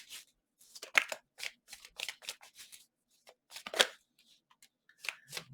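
Tarot cards riffle and snap as they are shuffled and drawn, in quiet close-up bursts of crisp flicks and slides separated by brief silences.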